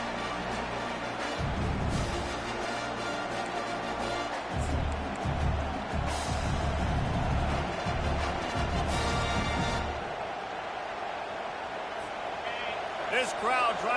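A stadium crowd roars steadily in a college football video game, a broad continuous wash of noise that swells and fades, with a commentator talking over it throughout.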